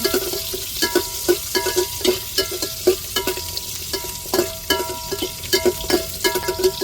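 Onions sizzle and fry in a pan for a kuzhambu curry, with a steady hiss under repeated rhythmic stirring scrapes and clinks, loud and close with no talking.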